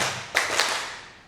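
A group of women clapping hands in a counting clap game, two sharp claps close together over a steady room hiss, loud and near with no talk.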